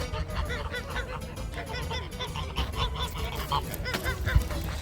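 Geese and goslings honk repeatedly in a noisy, overlapping chorus, close by, with a low rumble underneath.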